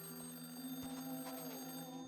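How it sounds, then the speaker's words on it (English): A telephone rings in the puzzle video game Lorelei and the Laser Eyes, a quiet, steady electronic bell tone that holds evenly throughout with no talk. "the phone is ringing."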